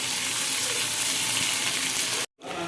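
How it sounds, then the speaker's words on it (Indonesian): Chili stir-frying in a pan gives a loud, steady hiss and sizzle with faint scraping, cutting out abruptly near the end and then resuming. "Kita aduk terus ya sampai tidak beraroma cabai mentah lagi"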